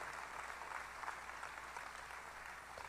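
A church congregation applauds during a sermon, a steady wash of clapping from many hands at moderate distance, continuous and even without any talk over it.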